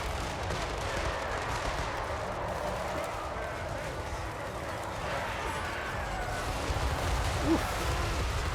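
A Total War Warhammer 3 artillery volley rumbles as a steady low barrage of distant booms and crackling fire beneath a spoken voice, with battle noise sustained throughout.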